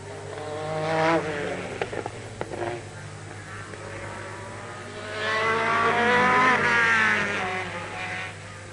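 A 1991 Le Mans Sauber Mercedes prototype race car drones past with its engine note rising and falling, loud near the start and swelling again later as another pass builds, with no talk over it.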